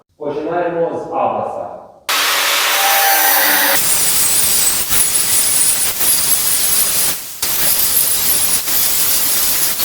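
An angle grinder with an Abra cut-off disc cuts a 16x16 steel tube. A short voice comes first, then loud, continuous harsh grinding with one brief dip near the end.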